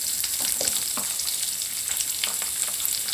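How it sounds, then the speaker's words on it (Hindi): Sliced onions sizzle in hot cooking oil with a steady bright hiss, broken by small pops and stirring scrapes, close and fairly loud throughout. "ये जो हमने प्याज काट के रखी हैं ये भी हमने डाल देनी"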